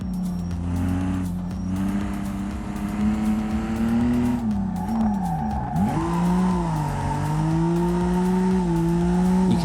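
Ibishu Claira race car in BeamNG sliding on track, with a loud, sustained engine drone that rises and falls in pitch as revs swing, plus tire squeal as the rear steps out.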